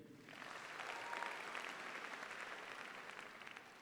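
Crowd applause fills a university welcome-day hall, a steady wash of many hands clapping that holds at an even level throughout without a break.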